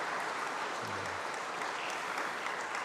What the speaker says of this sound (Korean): 큰 사랑과 격려의 박수 부탁드리도록 하겠습니다